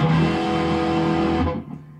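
A bright electric guitar chord, played with the tone knob turned fully up, rings out with crisp treble, sustaining steadily for about a second and a half before being cut off.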